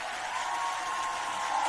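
A church congregation claps and cheers steadily to welcome its church leader, a dense, continuous wash of applause with no pauses, moderately loud and fairly distant.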